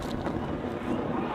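Steady wind buffeting the microphone outdoors, a broad continuous rumble and hiss with no voices, loud and close throughout the short stretch.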